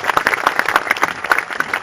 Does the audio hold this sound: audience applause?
yes